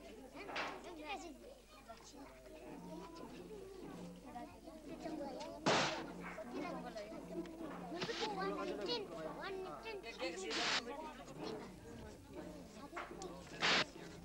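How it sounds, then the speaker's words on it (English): Sharp firecracker bangs set off by novice monks at sMenri monastery in 1981 go off now and then, a few loud cracks standing out over ongoing chatter and background voices outdoors. "The pocket money of the novices was invested in firecrackers this time."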